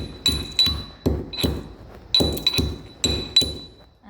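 Three cardamom pods being pounded for chai, sharp hard knocks in close pairs with a bright metallic ring, about eight strikes in loose rhythm, no talking.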